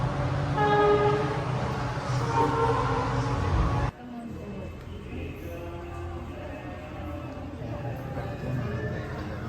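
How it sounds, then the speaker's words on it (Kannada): A passing train near the Kengal Anjaneya temple sounds its horn in loud repeated tones over a rolling rumble, which cuts off sharply and leaves quieter rail and ambient noise with faint voices. "ಟ್ರೈನ್ ಹೋಯ್ತದೆ,"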